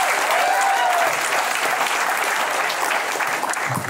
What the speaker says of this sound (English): Clap your hand for Dylan, everybody.